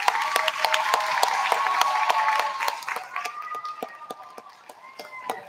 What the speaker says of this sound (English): let's give all of our performers today a round of applause